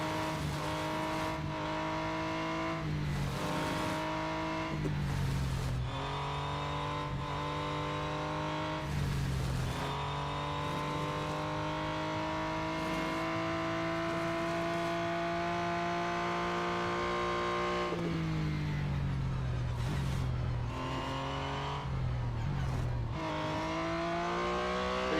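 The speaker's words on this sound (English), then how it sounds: "I've quite enjoyed racing this Porsche" A Porsche race car in the Real Racing 3 video game roars steadily at high revs for the whole stretch, its engine pitch rising and dipping briefly as it shifts gears, loud and close with no talking.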